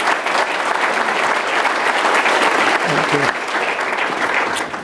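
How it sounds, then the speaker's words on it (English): An audience at a university event applauds the president of DePaul University, a full, steady round of clapping that holds loud throughout and tapers slightly at the end. "let's give Dr. Esteban a big round of applause"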